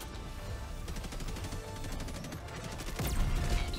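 Sustained gunfire in Helldivers 2, aimed at the rear of a bot tank amid heavy smoke: a dense, rapid stream of shots over a constant rumble of battle noise, swelling louder near the end.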